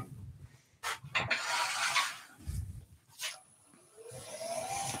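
Sandpaper rubs over an Ecopoxy resin and twig bowl in short uneven passes, producing quiet raspy scratching strokes separated by brief pauses, close up and faint.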